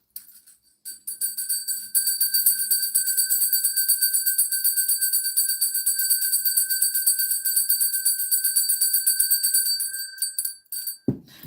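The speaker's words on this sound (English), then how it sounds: "I gotta ring that bell" A bell rings steadily for about ten seconds, a bright sustained metallic tone with a rapid shimmering tremolo, loud and alone with no talk, cutting off abruptly at the end.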